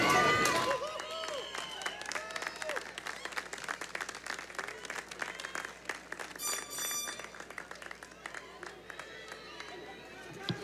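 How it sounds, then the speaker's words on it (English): Applause at a university commencement ceremony in a large venue, a sustained crowd clapping over ten seconds with scattered whistles, cheers and chatter mixed in, heard at a moderate distance. "let's have another round of applause for Ms. Nancy Lee"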